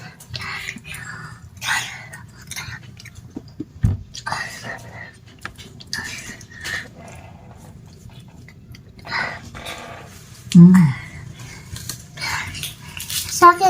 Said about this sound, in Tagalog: Tinikman ko na yung mini donut.